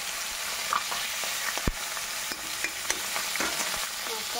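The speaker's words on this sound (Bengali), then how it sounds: "আমি একটু ভেজে নিচ্ছি" A large bhola fish sizzles in shallow oil in an iron wok, a steady crackling hiss with scattered pops and a few sharp clinks of a utensil, fairly close and alone.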